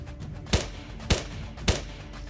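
Three sharp gunshots ring out at even intervals of about half a second in a tactical VR shooter game, each a loud crack standing out over a low ambient background.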